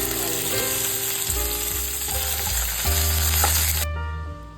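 Curry leaves and chana dal frying in hot tempering oil, a loud continuous crackling sizzle with steady hum and a sudden dip in brightness near the end.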